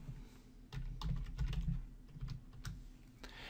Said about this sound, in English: I'll just type in Google.